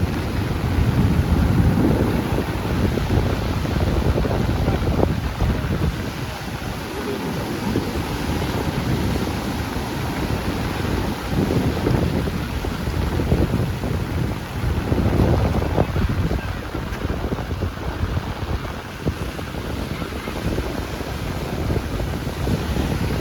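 Steady roar of sea waves at a beach in rain, mixed with heavy wind buffeting the microphone, continuous and loud with no voices.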